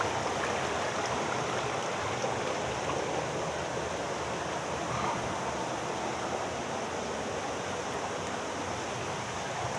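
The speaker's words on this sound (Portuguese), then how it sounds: "Agora nós vamos na cachoeira da Pedra Furada." A waterfall and a rocky stream at the Pedra Furada falls in Brazil keep up a dense, even roar of rushing water, broad and constant for ten seconds, with no voices over it.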